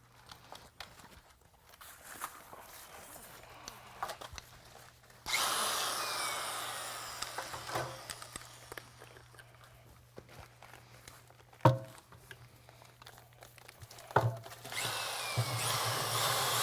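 A power drill mixes material in bursts. Its broadband whirring rises and fades with quieter gaps and faint knocks between runs, and no one speaks.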